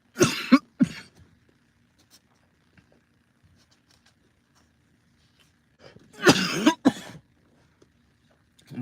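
A person with a cold coughs in two harsh bursts several seconds apart, close and loud, with near silence between them.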